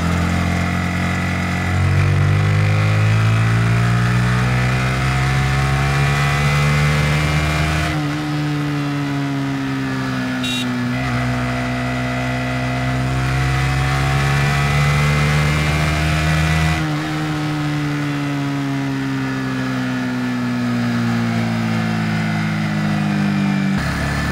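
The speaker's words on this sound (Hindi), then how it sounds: "जब हम कल्याणी हाईवे पे बाइक चला रहे हैं" Motorcycle riding along the Kalyani highway, a close, loud engine drone with rising and falling pitch as the bike accelerates and shifts through gears, sustained throughout with road and wind noise.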